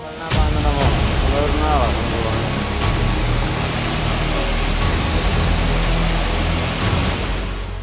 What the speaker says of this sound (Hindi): पानी का शोर सुनकर दहशत पैदा हो रही है